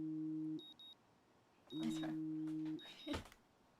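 An alarm repeatedly sounds a steady two-tone electronic beep in long pulses, loud and close, and a voice speaks briefly between the pulses.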